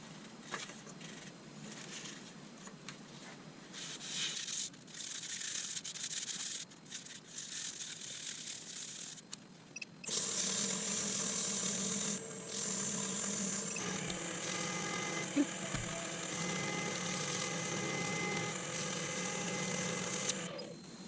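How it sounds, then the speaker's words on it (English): An elm woodturning piece being sanded on a spinning lathe, producing a steady whirring rush with a mechanical hum that grows louder and brighter midway through. "Let's see what that looks like after I've sanded it up."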